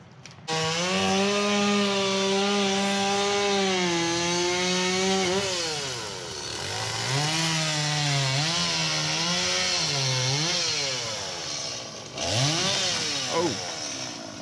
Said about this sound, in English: he needs to put more gas in the chainsaw